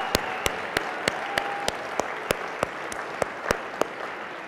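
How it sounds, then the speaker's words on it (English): Lecture-hall audience applauding steadily, a dense wash of many hands with a few sharper individual claps standing out at regular intervals, moderately loud and continuous with no talking over it. "give them a round of applause"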